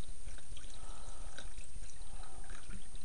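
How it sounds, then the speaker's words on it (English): Vinegar poured over bicycle brake calipers, a continuous soft splashing trickle of liquid, close and fairly quiet, with no voices. "Cover it up in vinegar."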